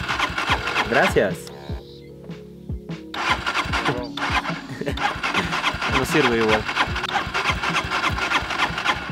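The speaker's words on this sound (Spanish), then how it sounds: "La moto de mi amigo se ha muerto, no prende." A motorcycle engine cranks and sputters repeatedly without catching on a very cold early morning at over 4,000 metres altitude, with people talking close by throughout.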